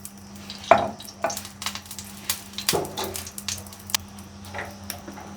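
Ghee sizzles in a hot frying pan, a soft steady fry broken by a few sharp clinks and scrapes of stirring, close and moderately loud with no one talking.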